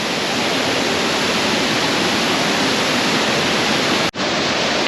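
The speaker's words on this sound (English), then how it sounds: "These waterfalls are huge and they make such a rush and an impact." Large waterfalls in the town of Jajce, Bosnia, roar as a loud, continuous rush of broadband water noise that holds steady throughout, broken only by a momentary dropout near the end.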